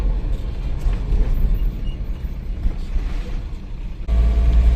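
A heavily loaded truck carrying about three and a half tonnes of tomatoes grinds along in first gear, a steady low engine rumble with road noise throughout, rising in level near the end.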